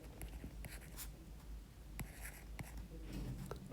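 Pen or marker scratching across a surface by hand while working through quartiles in a statistics lesson, quiet irregular strokes and taps with brief pauses between them.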